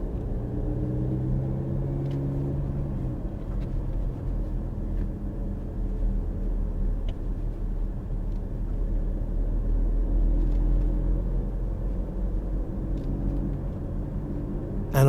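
A car driven by a learner on a mock driving test in Hendon, near Apex Corner, accelerating steadily down a road, heard as a continuous low engine and road rumble from inside the cabin, fairly even throughout.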